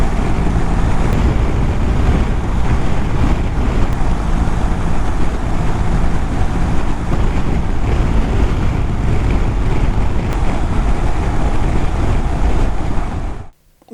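A BMW 1300GS motorcycle riding in sixth gear through wind, heard as a steady, loud, broadband roar of wind buffeting and engine drone that continues unbroken and cuts off abruptly at the end.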